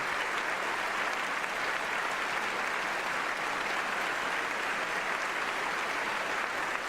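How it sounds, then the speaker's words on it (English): Steady, dense applause from a large crowd, continuous and fairly loud throughout with no pauses. "don't give me that much applause"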